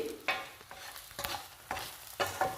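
Pieces of boiled egg frying in a pan until golden for a spicy Guntur chilli egg dish, with a soft sizzle broken by four sharp scraping stirs of the spoon, close and fairly quiet.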